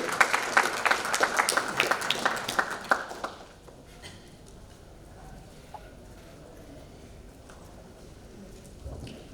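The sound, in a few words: clapping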